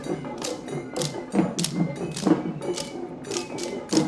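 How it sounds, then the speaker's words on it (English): Wooden patura strips strike a dancer's body and palms during the Kandy Esala Perahera procession, making a steady run of sharp, close wooden taps and slaps about twice per second, with no voices. "the striking of the instrument onto the dancer's body and the palms make sounds that energize the dancers along with the sound of the drum"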